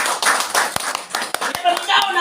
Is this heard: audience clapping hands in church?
yes